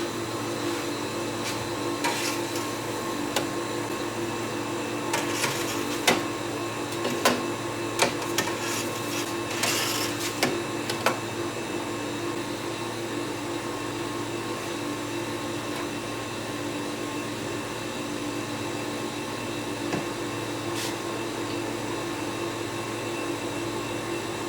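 A freeze dryer loaded with chilli peppers runs with a steady mechanical hum and whir, a few faint clicks and knocks scattered through the first half, then a constant drone continues alone.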